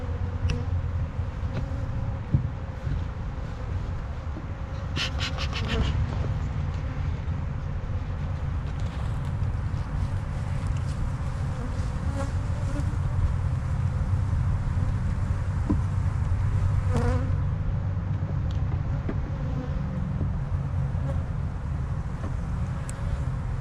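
Honey bees buzzing around a hive being built up for almond pollination, a continuous low droning hum with scattered brief knocks and rustles, no speech.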